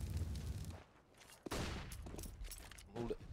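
Gunfire bursts in Counter-Strike on the Dust 2 map, auto sniper shots mixed into a busy firefight, with sharp cracks near 1.5 and 3 seconds over a rumbling, dense background.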